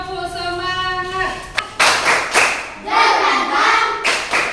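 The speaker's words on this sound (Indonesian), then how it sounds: "kita tepuk semangat dulu" A primary school class performs tepuk semangat, a chanted rhythmic clap routine led by a teacher during a coding lesson; voices chant a tune first, then sharp bursts of group clapping and slaps follow in an uneven rhythm.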